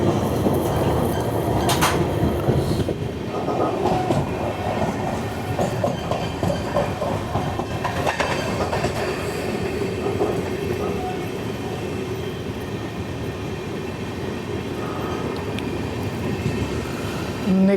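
The Mumbai–Hyderabad SF Express 22732 runs on the rails near Hyderabad Deccan, with a steady, close rumble and clickety-clack of its wheels lasting throughout.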